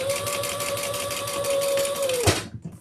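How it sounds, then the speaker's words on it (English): A sewing machine runs steadily, stitching across the bottom seam of a leather crossbody handbag, with a sustained motor whine that stops abruptly near the end, followed by a brief clunk and handling noise. "Just stitching across the bottom."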